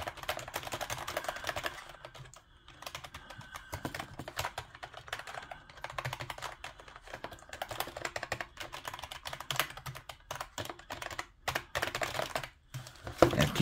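Someone types on an NPET RGB wireless gaming keyboard, a fairly quiet, continuous clatter of keystrokes with brief pauses and no talk.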